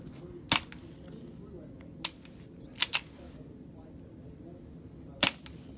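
Suppressed gunshots from subsonic rounds fired through a Yankee Hill Stinger suppressor outdoors on a farm: five sharp, muted cracks at irregular intervals, two close together, over quiet background murmur.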